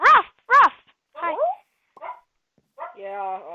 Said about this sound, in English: It's my dog, Henry.